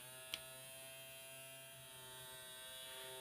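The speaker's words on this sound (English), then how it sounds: "I'm going to plug in a 9-volt battery now, that's this guy, to get the motor to run." Small electric motor powered by a 9-volt battery, a faint steady whine and hum with a click at the start, running continuously at close range.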